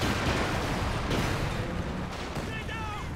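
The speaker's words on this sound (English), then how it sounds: "Nick told me he loves artillery, especially when it's being shot at him." Artillery shells fire and land in Company of Heroes 2 on the Port of Hamburg map, a dense, loud barrage of booming blasts and rumbling impacts that runs without pause.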